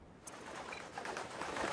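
Pigeons cooing softly in a steady low murmur, with a dense hum of birds layered in the background and no voices.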